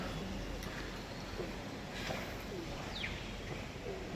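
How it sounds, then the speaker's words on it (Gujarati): Pigeons coo faintly on a temple roof under an overcast sky, a few soft, distant calls scattered over a low steady background hum. "મંદિર ઉપર બધા કબૂતર છે ને ચણ ચડાય."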